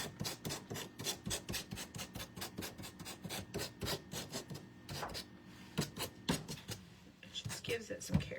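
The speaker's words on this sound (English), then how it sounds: "I'm going to sand over it again." Sandpaper rubs over button cross wall art in quick, rhythmic back-and-forth strokes, close and scratchy, forming a steady run of short rasps with a brief pause near the end.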